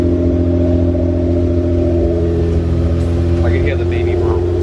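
An engine holds a steady idle-like hum at 2000 RPM, a loud, constant drone with even tones throughout and a brief voice over it partway through.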